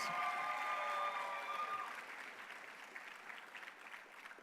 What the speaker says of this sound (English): Can we have another round of applause for all our guests